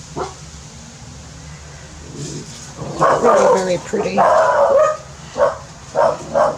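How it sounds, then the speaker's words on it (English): Dogs bark repeatedly in the background, with a few sharp yips coming in clustered bursts, while someone speaks softly nearby over the barking. "Hey, no barking, please."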